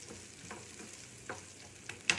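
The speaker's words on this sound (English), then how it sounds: "we are going to keep stirring this thing. Now the idea here is to not make it brown, to not burn it. Just saute it enough till it's translucent" Something sautéing quietly in a hot pan in a home kitchen, with soft sizzling and a few brief spatula scrapes and knocks as it is stirred, near and alone without speech.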